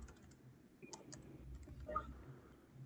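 Typing on a computer keyboard: quiet, close, irregular key clicks in short runs, faint against a low background hum.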